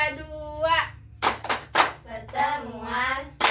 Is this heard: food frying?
no